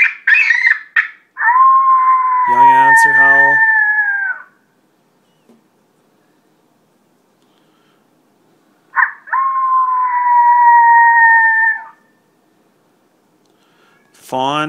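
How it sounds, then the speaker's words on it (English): A Primos Turbo Dogg electronic predator call plays a young coyote answer howl: two long, loud, steady howls separated by a silent gap, with short yelping bursts at the start and end, heard alone and close up. "Young answer howl."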